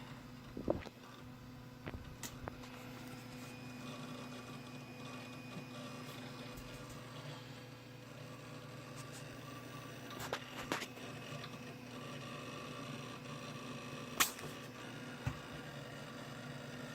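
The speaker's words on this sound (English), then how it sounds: "You can hear that hard drive chattering away." A steady low machine hum with scattered, irregular clicks and ticks of an old Dell Dimension XPS computer's hard drive chattering as it seeks, fairly close, with no talking.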